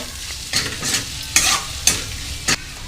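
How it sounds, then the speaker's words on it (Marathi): Turmeric, Kashmiri masala and goda masala sautéing in a pan for street-style anda bhurji, a soft sizzle under four sharp spatula scrapes against the pan, close and with no voices. "अर्धा चम्मच हळद, अर्धा चम्मच काश्मीरी मसाला आणि गोडा मसाला व्यवस्थित परतून घेऊया।"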